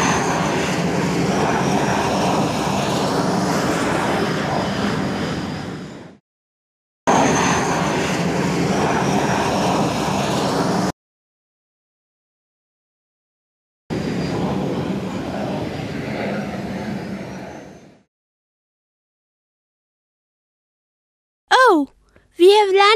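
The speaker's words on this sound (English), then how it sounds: "Airports are places where aeroplanes take off and land." An aeroplane engine droning steadily at an airport in three separate long stretches cut by silences, with a brief burst of voices at the end.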